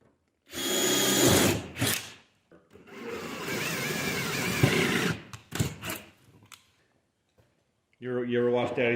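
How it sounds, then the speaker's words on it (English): A power drill bores holes through a door panel on an abandoned Kenworth W900A truck, several loud whining bursts of a few seconds each separated by short pauses, with a voice briefly heard near the end. "So I'm gonna drill those out, and we're gonna bolt this to it."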